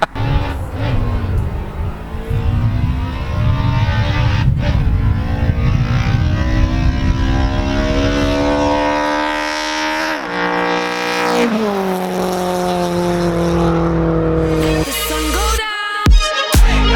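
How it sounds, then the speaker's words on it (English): A Nissan Sabre 200GXI engine fitted with a velocity stack revs hard and loud, its pitch sweeping up and falling back across repeated pulls, ending in a few sharp blips. "let's first hear how that velocity stack sounds"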